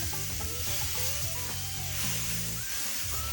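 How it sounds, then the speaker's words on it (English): Smashed taco beef patties sizzle face down on a propane grill, a steady, dense crackling hiss that holds close and even throughout with no voices. "we're gonna put them down face first, meat first on the grill"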